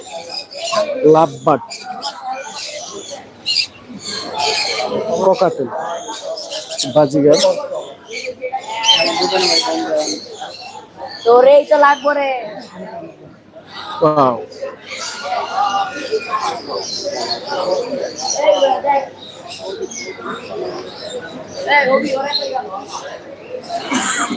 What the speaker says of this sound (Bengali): ডায়মন্ড পাখি বাজিগার যে অস্ট্রেলিয়ান বাজিগার